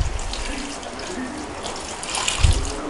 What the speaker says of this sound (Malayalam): അല്പം വെള്ളവും ഒഴിച്ച്,